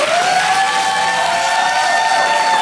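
Studio audience on a Russian TV game show claps and cheers in a loud, steady, dense wash that holds throughout, with sustained musical tones ringing over it.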